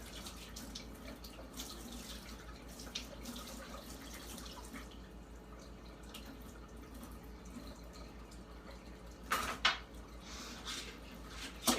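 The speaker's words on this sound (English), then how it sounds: "nobody likes doing dishes, YouTube, but they have to be done" Dishes being washed at a kitchen sink under a running tap, a steady low wash of flowing water with faint clinks, then a couple of louder splashes and knocks near the end, with no talking.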